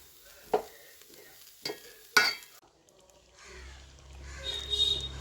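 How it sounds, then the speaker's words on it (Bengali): Several sharp scrapes and clinks of a spatula stirring rice and lentils with turmeric in a pan, then a soft sizzle of frying grains building toward the end. "ফোড়ন দিয়ে চাল আর ডালটা ভেজে নিচ্ছি হলুদ দিয়ে"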